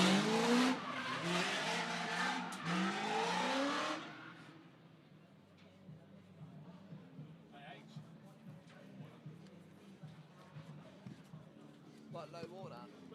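A V8 race car engine roars loud and close for about four seconds in a top-eight final battle, then drops away to a faint background drone under people talking.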